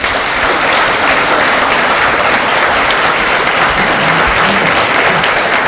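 Loud, dense applause from a large crowd at a 40th anniversary celebration welcoming two honored guests onto the stage. The clapping sounds close and sustained throughout, with no talking on top.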